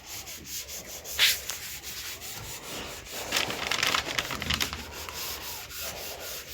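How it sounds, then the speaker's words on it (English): Someone hand-sands the body of a 1965 Chevy truck with a sanding pad, giving repeated close, scratchy back-and-forth rubbing strokes that swell louder midway, with no talking. "then you just try to sand all the way, just like this"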